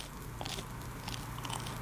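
Crunchy donuts being bitten and chewed in a video game, a steady run of crisp crunches and crackles over a constant low hum, with no talking.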